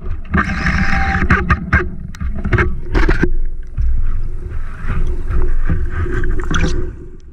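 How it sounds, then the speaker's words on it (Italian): An inflatable boat's outboard engine starts up, heard from underwater during a deep freedive off Taranto, Puglia, as a continuous muffled churning mixed with bubbling, clicks and gurgles. "sento il motore del gommone che si accende"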